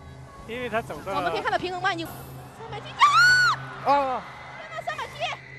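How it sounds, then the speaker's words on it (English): A crowd below a tightrope act lets out high shrieks and screams of fear as the acrobat falls partway across, loud rising cries bursting out around the three-second mark over a busy murmur of voices. "takes the fateful step that sends him falling and causes shrieks of fear from the crowd below"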